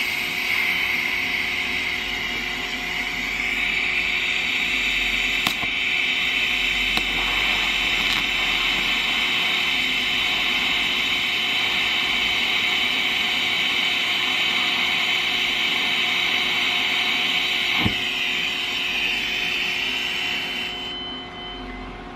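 TIG welder running with shielding gas flowing, a steady continuous hiss and buzz lasting about twenty seconds at close range, with a couple of brief clicks and no talking.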